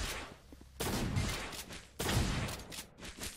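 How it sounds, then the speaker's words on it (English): Shotgun fire in a Roblox shooter game comes as two loud, heavy bursts about a second apart, each a broad blast that decays into rumble, standing alone without talk. "I've got a shotgun now."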